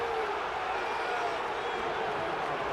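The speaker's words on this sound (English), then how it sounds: "Listen to the crowd." A basketball arena crowd roars in a steady, loud wash of noise during a Bulls versus Cavaliers game after a disputed foul call.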